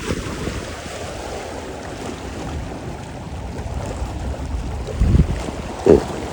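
A boat motor running on the open sea during a fishing outing, a low steady drone blended with wind buffeting the microphone and water wash, with a couple of brief louder knocks near the end.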